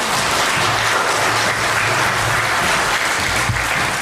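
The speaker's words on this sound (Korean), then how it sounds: "우리 원로 목사님 나오실 때 큰 박수로 환영해 주시면 감사하겠습니다" A church congregation in Vancouver claps warmly to welcome the senior pastor, steady loud applause filling the sanctuary for several seconds, with a faint voice briefly underneath.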